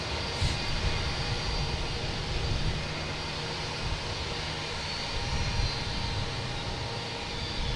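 A Turkish Airlines Airbus A350-900 jet arriving from Istanbul at Boston Logan: a continuous, fairly faint engine roar with a low hum and even texture throughout, heard without talk.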